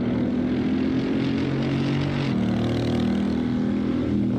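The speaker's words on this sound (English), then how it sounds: "Now I like the way the exhaust sounds." A car's exhaust in the Assetto Corsa racing game, a Mercedes or Porsche, drones loudly and continuously, then the pitch shifts abruptly as the gear changes partway through, with no voices.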